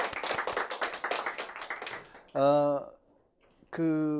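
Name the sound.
audience applause welcoming speaker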